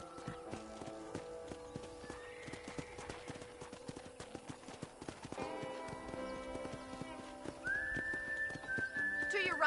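Rhythmic clip-clop of horse hooves in Red Dead Redemption over a low ambient backdrop, with a whinny and a sustained whistling tone near the end.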